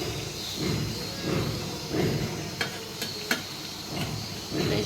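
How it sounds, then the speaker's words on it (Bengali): Kachki fish cooking in a pan, giving a steady low sizzle and stirring scrape throughout, with a few sharp ticks of utensil contact partway through. "আজকে কাসকি মাছ রান্না করছে, এই যে রান্না হচ্ছে"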